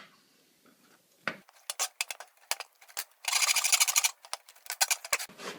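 A metal spoon breaks up clumps in a pot of peanut butter fudge mixture, making scattered sharp clicks and taps against the pan's side, with a dense burst of rapid scraping partway through.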